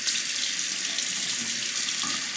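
Tap water runs in a steady, hissing stream while being added to a Chinese natural hone for sharpening a straight razor, close and continuous with no voices.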